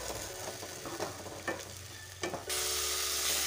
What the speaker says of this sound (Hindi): अभी हम ये टमाटर का प्यूरी डाल रहे हैं।